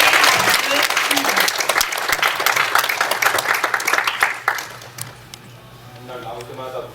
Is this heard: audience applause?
yes